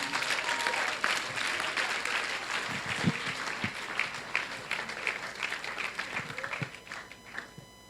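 A church congregation applauds in sustained, dense clapping that stays steady and then thins toward the end, heard from within the crowd, with a few scattered voices mixed in.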